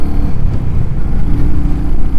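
A Royal Enfield Hunter 350 motorcycle fitted with a DNA air filter, its engine revving loudly and steadily up close with a throaty, pulsing drone and no voices.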